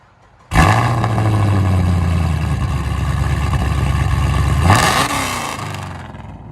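A Chevy Camaro SS with a 6.2L LS V8, BBK headers and aftermarket exhaust fires up abruptly into a loud, rumbling idle, then gives a sharp rev blip before settling, close and alone.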